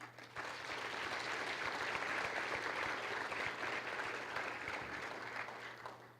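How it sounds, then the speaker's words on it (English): Symposium audience claps in a sustained, even round of applause that starts after a brief pause and holds steady for about six seconds before tapering slightly. "He deserves a big round of applause."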